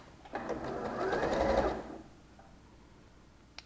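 A sewing machine runs briefly and close by while backstitching a seam on a lined sleeveless shoulder garment, giving a steady mechanical whir of about one and a half seconds before it stops.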